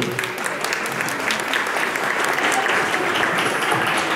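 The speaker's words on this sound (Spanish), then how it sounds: "Un aplauso para Dago," Steady, dense applause from a live audience at a Caracal channel launch event, greeting Dago García, sustained and fairly loud throughout with no break.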